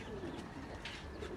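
Domestic pigeons coo softly in a brief, faint burst of low calls, with no voices over them.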